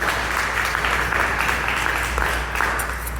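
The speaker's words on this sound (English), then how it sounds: "let's give us a round of applause" An outdoor crowd at a Pasadena Rotary announcement in the Farnsworth Amphitheater claps steadily throughout, a dense, even wash of applause with no break.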